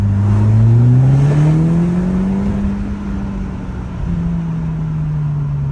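Close, loud engine note from an Audi S3 with a K04 turbo accelerating, climbing steadily with a brief drop at a gear change before pulling on again.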